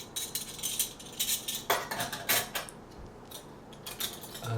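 Big antique soup spoons clink and rattle as they are handled, giving a series of quiet, irregular metallic taps and chimes with no talk.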